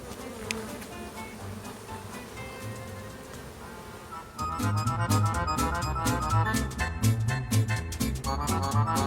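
Honey bees buzzing in and around a hive, a dense, steady hum that swells noticeably louder partway through and stays close and continuous.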